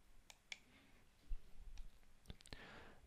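Computer mouse clicks while working in SolidWorks: a few sharp, faint clicks scattered across a few seconds, close and quiet against low background noise.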